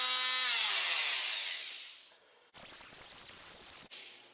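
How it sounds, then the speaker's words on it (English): An oscillating tool buzzes with a loud, high whine that winds down while cutting vent openings into the cab of a 2021 Polaris General, then gives two short bursts of rough, gritty cutting. "I'll cut these out and then I will install these vents here. How I do that is with an oscillating tool"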